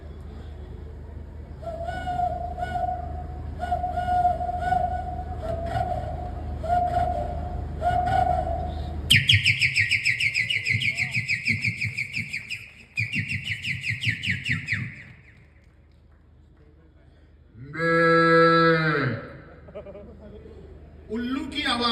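A man on stage at a village fair imitates owl calls with his voice: a run of repeated hooting notes, then a long high whistling call and a later wavering hoot, loud and close with applause-like noise between.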